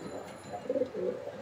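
Light-coloured racing pigeons coo in a short, low, soft burst of throaty warbles, with faint background noise.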